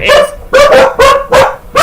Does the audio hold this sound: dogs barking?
yes